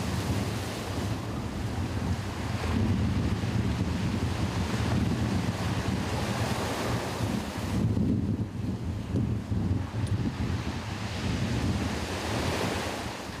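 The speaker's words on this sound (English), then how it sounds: "Look at these two wave motions." Surf from constructive and destructive waves breaking on a sloping shore rolls on continuously and loudly, with steady low rumble, a few swelling crests and some wind buffeting the microphone; no voices.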